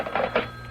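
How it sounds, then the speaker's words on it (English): A telephone rings in a doctor's office in an old radio drama, a short burst of bright ringing tones, moderately quiet with a steady low hum beneath. "answer the phone, will you, before I lose my mind altogether?"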